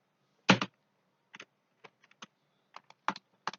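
A router command is tapped out on a computer keyboard in sparse, irregular keystrokes, a firm first press followed by scattered single and paired clicks, close and distinct in an otherwise silent room.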